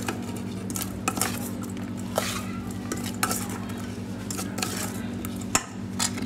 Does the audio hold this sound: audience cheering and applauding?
no